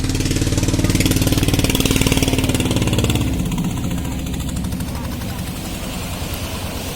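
A boat engine idles at sea with a steady low rumble, loud and close, and it settles a little quieter after a few seconds. A voice speaks over it.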